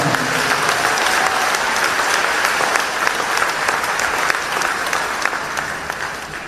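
An audience at a church convention applauds continuously, a dense, loud wash of clapping from many hands that tapers slightly toward the end.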